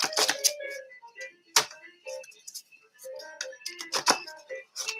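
Tarot cards are shuffled by hand, giving quick irregular clusters of crisp flicks and taps, close and fairly quiet, with faint tones between bursts.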